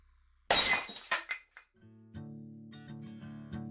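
An orb smashed with a sharp, loud glass shatter, followed by a few scattered clinks of falling shards and then a lingering ringing tone as the pieces settle.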